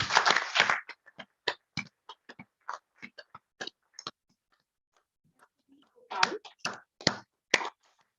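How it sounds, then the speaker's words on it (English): Applause at an institute's foundation day ceremony: a burst of clapping from a modest crowd thins into scattered individual claps, goes nearly quiet, then picks up again in a short final flurry. "Let's invite them with a round of applause."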